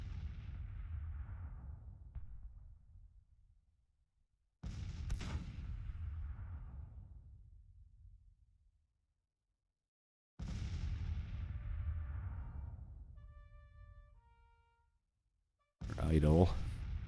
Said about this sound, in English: Have our guns open up on him.